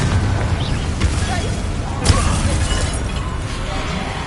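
The Confringo explosive spell is cast in Hogwarts Legacy, giving a loud, noisy blast with a shattering crack near the middle. Continuous rumbling combat noise surrounds it.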